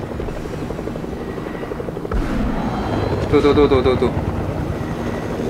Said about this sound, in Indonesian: Tuh kan, suaranya helikopter kan.